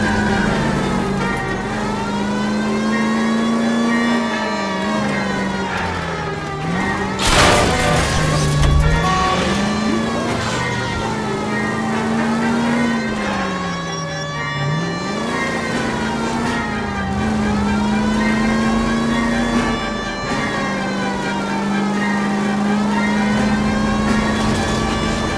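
During an L.A. Noire car chase, a car engine revs hard with a siren wailing alongside, loud and continuous with rising and falling pitch and a sharp crash-like burst partway through.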